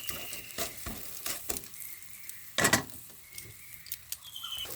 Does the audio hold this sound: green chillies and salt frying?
yes